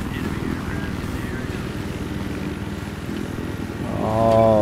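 Jet aircraft in the Battlefield 3 game: a rough, rumbling engine roar runs steadily, then swells louder with a rising whine near the end as the aircraft draws close.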